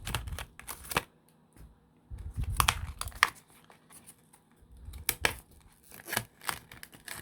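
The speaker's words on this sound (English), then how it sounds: "So I'm gonna open it up just like I did the last one, just cut it open." A cheap plastic pack of erasers is cut open and handled, with sharp crinkling and tearing bursts separated by short quiet gaps, close to the microphone.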